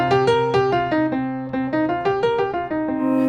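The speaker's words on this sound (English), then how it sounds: "that's the pentatonic scale. That's the sound of the blues." Five notes of the blues pentatonic scale, played one after another on a tonal instrument, repeat in a clear, even rhythm with bright sustained tones, close and alone.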